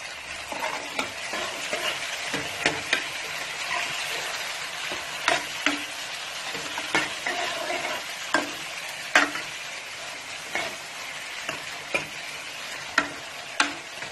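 Tomatoes with onions and two or three green chillies fry in a pan for Punjabi-style chicken curry, a steady close sizzle broken by regular clinks and scrapes of a spoon stirring, with no talk.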